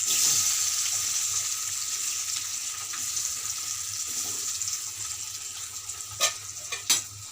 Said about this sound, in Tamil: இதை ஒரு கடாயில் எண்ணெய் ஊற்றி சூடாகிட்ட பிறகு இதை கொஞ்சம் கொஞ்சமாக போட்டு பொறிச்சு எடுத்துக்கலாம்